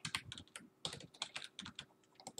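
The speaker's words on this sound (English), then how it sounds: "Then type in a strong password." Rapid keystrokes on a computer keyboard while a password is typed, a quick irregular run of close, crisp clicks with short pauses and no talking.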